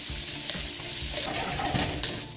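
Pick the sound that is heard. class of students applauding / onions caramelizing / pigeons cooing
onions caramelizing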